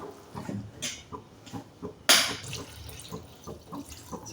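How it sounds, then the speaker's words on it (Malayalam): Water is poured into a pot of Kerala-style chicken curry, making a short splash midway through amid soft kitchen clatter, with no talk. "ഇനി ഇത്തിരി വെള്ളം ഒഴിച്ച് കൊടുക്കണം."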